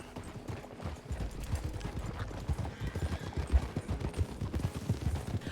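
Horse hooves clip-clop on a road in the western roleplay game RedM, a quick, steady trotting rhythm of soft thuds that carries on throughout, moderately close.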